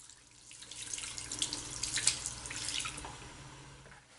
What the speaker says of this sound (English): Water should be used to rinse off the soap from the fingertips down only.